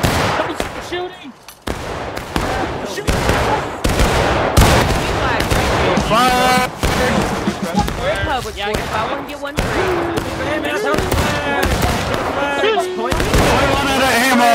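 Video game gunfire rattles through a large online battle event. Shots crack in dense, overlapping bursts under excited players shouting and talking throughout.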